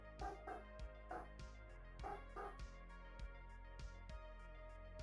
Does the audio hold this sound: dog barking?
yes